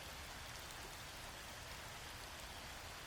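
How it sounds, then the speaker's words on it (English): Heavy rain in a field recording, a dense, steady hiss of countless drops striking surfaces, unbroken and even throughout with no voices. "It's a heavy rain."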